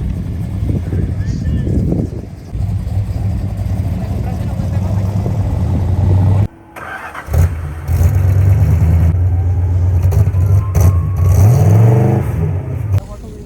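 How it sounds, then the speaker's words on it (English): An older classic car pulls away at a car show, its engine humming steadily and rising as it drives off, with a brief drop before the motor sound returns close by; voices are heard alongside. "There goes my car. There it goes."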